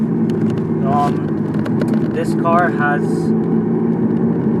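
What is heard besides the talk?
Peugeot 308 GTi car engine while driving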